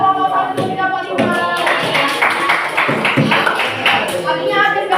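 Classroom students clap their hands in a school lesson, a scattered ragged patter mixed with overlapping voices and chatter throughout.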